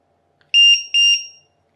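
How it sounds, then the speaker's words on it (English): A LiPo battery alarm plugged into a balance lead gives four sharp, piercing electronic beeps. They come in two quick pairs, close and loud against silence. "This is our LiPo alarm."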